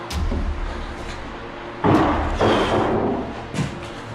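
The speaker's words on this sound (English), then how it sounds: "there's a loud sound of something wooden slamming or falling down" A wooden object slams or crashes down upstairs, giving a sudden heavy thud followed by a rattling tail and a smaller knock, muffled by distance within a house.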